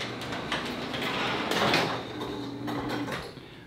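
A home garage door opens with a steady motorized hum and low drone, with a few rattling clunks and a louder scraping swell midway as the door travels.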